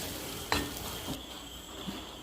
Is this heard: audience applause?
no